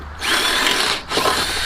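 Power drill driven with an improvised bit during an LED light bar install on a vehicle bumper, whining loud and close in two bursts with a short dip between them.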